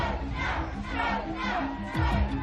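An unruly crowd of striking workers shouting together in 1919-era unrest, a dense roar of many raised voices with rough, chant-like cries rising and falling, steady and loud across the whole moment.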